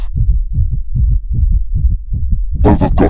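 Rapid heartbeat sound effect, a loud, steady train of low double thumps repeating quickly throughout, joined near the end by a brighter burst of noise.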